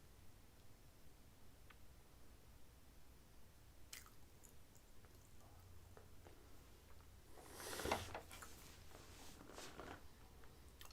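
Someone chewing Popeyes biscuits, soft, quiet wet mouth sounds repeating close to the mic, with a brief louder rustling burst partway through.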